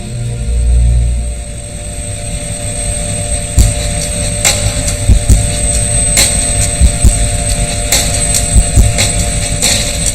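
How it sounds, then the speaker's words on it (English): An old Russian Mi-17 helicopter flies toward the Himalayas, giving a steady, close rotor-and-turbine drone with a constant whine. Sharp clicks and knocks are scattered through it. "My path begins in an old Mi-17 helicopter a shuddering Russian war relic."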